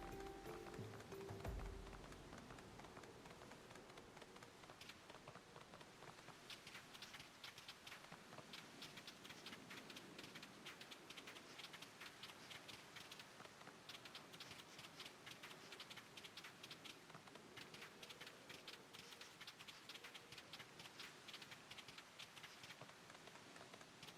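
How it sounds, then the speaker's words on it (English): Steady rain falls in the video game Final Fantasy XIV, a continuous soft patter of drops on surfaces that runs evenly throughout, with a brief low rumble at the very start. "But why is it always raining when I'm playing?"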